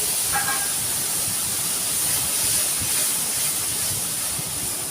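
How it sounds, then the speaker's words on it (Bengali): Spice paste dropped into hot oil for a katla fish rezala curry, producing a loud, steady, close hiss of sizzling that runs unbroken throughout. "এখন আমি তেলের মধ্যে মশলাটা দিয়ে দিচ্ছি"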